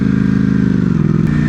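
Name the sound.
V4 motorcycle engine rumbling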